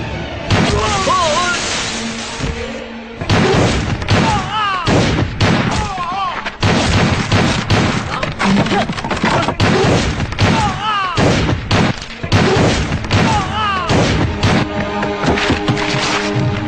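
Gunfire and booming impacts in a dubbed Indian action film, loud bursts repeating densely across the scene under a musical score, with brief gaps between volleys.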